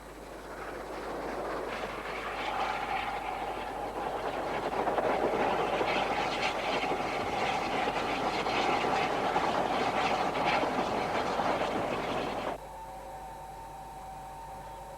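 A train on the Settle–Carlisle Railway in the 1980s rumbles steadily along the tracks for a long stretch, a loud continuous rolling roar with faint clatter, ending abruptly into quieter hum.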